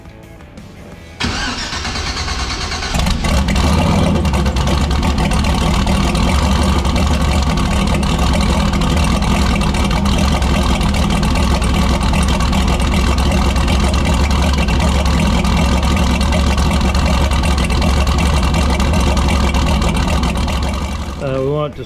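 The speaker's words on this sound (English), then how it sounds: "gotta pull it out, let it get some heat in the motor so we can get ready for this" A car engine cranks and fires up inside a shop, then settles into a loud, steady running note held for the rest of the time to warm up, close to the listener.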